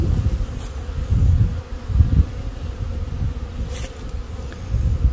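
Honeybees from newly installed package colonies fly around the hives in a continuous close buzzing drone that swells and fades as individual bees pass the microphone, with no talking.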